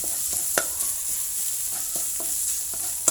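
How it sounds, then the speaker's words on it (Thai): Pork stir-fried with fried garlic in a pan, a loud close continuous sizzle with intermittent spatula scrapes and knocks against the pan, no talk. "หอมกระเทียมเจียวกับหมูผัดด้วยกัน"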